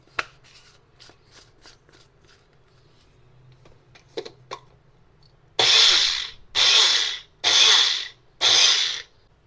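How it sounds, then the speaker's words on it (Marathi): Mixer grinder grinding sesame and poppy seeds, running in four loud, harsh whirring bursts of about a second each after a stretch of quieter kitchen clatter and tapping. "मंडळी आता तीळ आणि खसखस मी वाटून घेणार आहे याच्यामध्ये."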